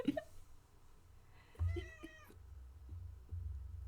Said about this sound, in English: I don't know if you heard that, but Kitty meowed so I did loudly.